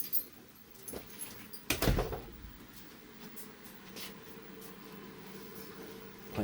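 Dogs move about while playing a red light, green light game, giving light scuffles and jangling tag sounds with a brief louder knock or thump near the start, then quieter shuffling.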